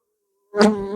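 Honey bees from a weak colony buzz close by at an open horizontal hive being moved to a new hive without a smoker, a sudden loud droning hum rising after half a second of silence.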